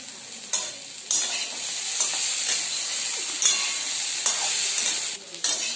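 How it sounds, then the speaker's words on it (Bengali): Long beans and potatoes fry with green chillies in a pan. A soft, steady sizzle runs throughout, broken by a few sharp stirring scrapes, with no voices. "দেখুন গাইজ ভাজা হয়ে এসছে আমার বরবটি আলুটা"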